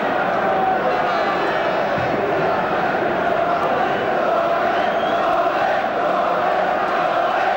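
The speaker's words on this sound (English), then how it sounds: "now it's the Witton fans who are way behind the tower who are cheering" Witton Albion football fans cheering at an FA Trophy final, a dense, steady roar of a large crowd heard from a distance, continuous throughout with a commentator talking over it.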